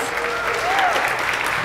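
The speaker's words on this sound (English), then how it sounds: "Big round of applause for Charles" Audience applause at a spooky-themed stage show, a steady, full wash of clapping from a crowd that holds at an even level throughout, with no speech over it.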